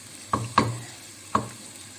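Onions sautéed in a pan for keema, with three sharp, brief stirring clinks against the pan over a soft sizzle.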